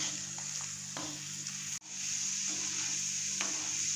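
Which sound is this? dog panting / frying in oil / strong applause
frying in oil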